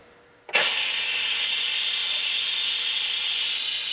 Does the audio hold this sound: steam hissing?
yes